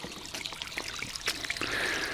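Water trickles and dribbles steadily through the little pools of a small creek called Silver Creek, a faint, continuous babble with occasional splashy accents and no voices.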